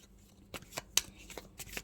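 Tarot cards being shuffled by hand, giving several short, quiet riffling bursts with brief pauses between them.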